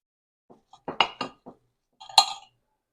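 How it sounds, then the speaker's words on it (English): Knife and fork clink against a plate while a fried tortilla pie filled with sausage mix is cut open, a few short scattered taps and scrapes, close and fairly clear, with no talking. "I'm going to cut this one open."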